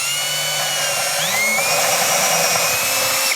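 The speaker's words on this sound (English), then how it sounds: "I'm going to enlarge this hole with a 13/32 inch diameter drill bit" A power drill with a 13/32 inch bit whines at high speed boring a hole in wood, its pitch dipping and rising as the bit works through, loud and close for a few seconds.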